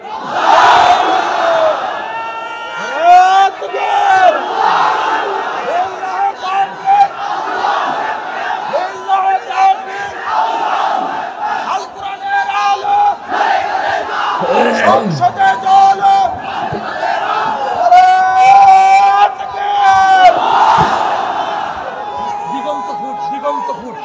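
Crowd at an outdoor Islamic sermon gathering in Gaibandha, Palashbari, roaring Allahu Akbar in response to a takbir call: repeated loud, massed chants rising and falling in waves between speech from the stage.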